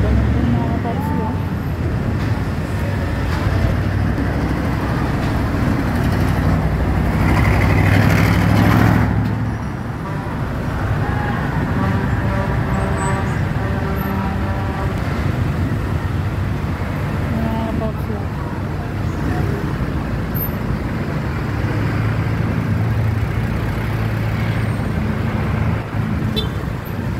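Jammed roadway near a fire at Karangalan Village, cars, buses and trucks rumbling and idling close by with a brake hiss, a steady loud wash of engine noise under talking voices.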